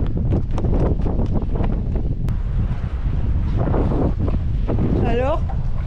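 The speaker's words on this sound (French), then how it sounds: "Il y a du vent." Strong wind blows steadily outdoors, buffeting the microphone with constant low roar while someone talks through it in short phrases.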